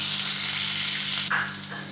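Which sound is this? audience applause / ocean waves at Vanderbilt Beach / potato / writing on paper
potato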